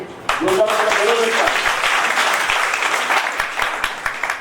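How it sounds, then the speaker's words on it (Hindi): Seminar attendees in Jhansi burst into loud applause for a new guest, clapping building quickly after a short spoken call and then thinning into scattered claps. "सर जोरदार ताली,"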